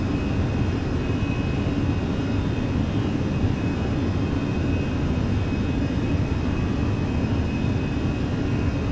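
Airbus A320 engines in flight in Microsoft Flight Simulator, modelled as the Fenix A320 on a Eurowings departure from Germany: a loud, steady, broadband roar with a faint high whine, unbroken and with no voices.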